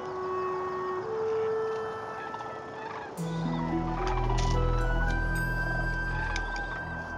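A large flock of sandhill cranes, a few hundred birds, calls outdoors at a November corn maze, with rolling, overlapping bugling that swells louder partway through as they take off and settle nearby.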